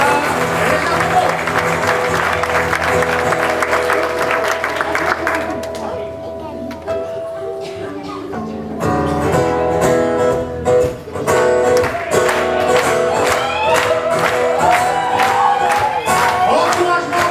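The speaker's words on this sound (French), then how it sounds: "On applaudit d'abord les deux équipes nationales et les champions." Audience at an improv match cheering and applauding both teams, loud dense clapping with shouts and whoops, briefly easing before surging again, with music and voices mixed in.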